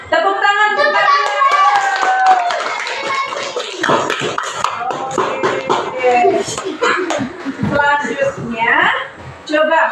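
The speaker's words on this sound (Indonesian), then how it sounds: "Tepuk tangan." A class of schoolchildren claps their hands, giving a dense, steady patter of close handclaps mixed with children's voices and chatter.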